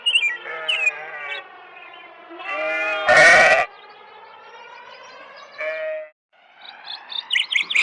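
Several sheep bleat one after another, long wavering calls close by, with a short harsh burst of noise in the middle and quieter stretches between the cries.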